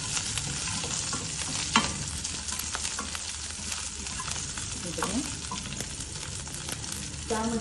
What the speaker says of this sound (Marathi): त्यामध्ये आपण आता ही मिरची आणि लसूण टाकलेली आहे, ती आपण परतून घेणार आहोत